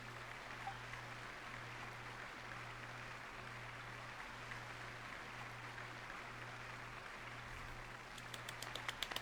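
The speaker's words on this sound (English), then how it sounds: "Will the applause continue after I take off the mask?" A steady wash of audience applause fills a theater scene in a video game, continuous and even throughout, with a low repeating hum beneath and a few sharper claps near the end.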